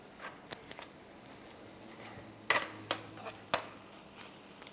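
Rice frying in a frying pan gives off a quiet, steady sizzle, broken by a few sharp stirring clicks and scrapes. No one speaks.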